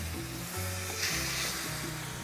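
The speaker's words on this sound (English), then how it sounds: "We want to sear." Spice-rubbed pork chops sear on a Blackstone griddle with a little oil, giving a loud, steady sizzle with faint scraping, close up and without talking.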